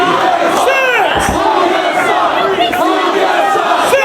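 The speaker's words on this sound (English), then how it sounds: "This crowd in Dayton definitely behind Punk." A wrestling crowd in Dayton roars and chants loudly for CM Punk at a Ring of Honor event, with sustained massed voices and rising shouts filling the arena, and no commentary heard over it.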